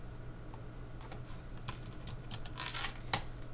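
Quiet, steady clicking of keys on a computer keyboard as text is typed, irregular bursts of keystrokes over a constant low hum, with no talking.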